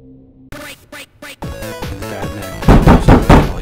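Several sharp, loud knocks on a door in the stealth video game The Dark Mod, coming in quick bursts, then a denser clattering and banging with no voices.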